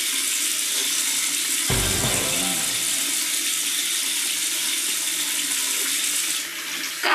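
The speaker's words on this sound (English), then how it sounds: "I'm gonna let the water get hot." Water running steadily from a sink tap, a continuous close rushing stream with a brief change in flow partway through.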